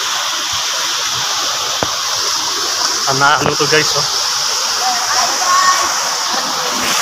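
Steady roar of water pouring at Lambingan Falls, loud and continuous, with a brief voice speaking over it midway and a few small knocks.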